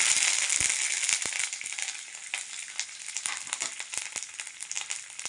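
Curry leaves and garlic crackle and sizzle steadily in hot oil for a moong dal and cabbage fry, a bright, close, continuous frying hiss with sharp pops, loudest at the start and easing slightly.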